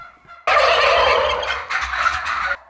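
A loud, close flock of heavy-breed turkeys on a farm gobbling together in a dense, continuous chorus that starts abruptly and runs for about two seconds.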